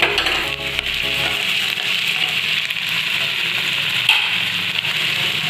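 Water poured into a hot frying pan of onions, bay leaf and ginger-garlic paste while cooking Odia pineapple chutney, giving a steady close sizzle and hiss that runs evenly throughout with no talking.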